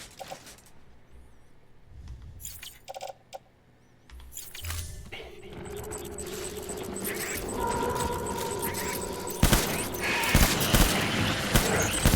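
Gunfire breaks out in the video game Death Stranding, a rising, crowded barrage of shots and bursts building under a background score, with one sharp loud blast near the end and no speech.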